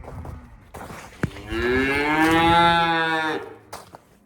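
A cow on a farm lets out one long, loud, close moo that rises and falls over a couple of seconds, with faint rustling and a sharp knock just before it.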